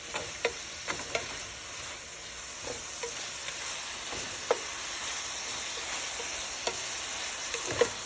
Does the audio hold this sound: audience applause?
no